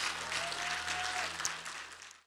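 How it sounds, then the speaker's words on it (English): Round of applause from a church congregation, a fairly faint steady wash of clapping with a low hum underneath, ending abruptly. "Let's give those people a massive round of applause."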